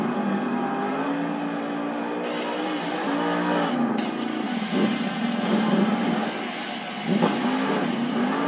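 The ThunderROARus monster truck's engine roars and revs inside a Monster Jam arena in Greensboro, NC, a loud sustained drone rising and falling with throttle surges toward the end.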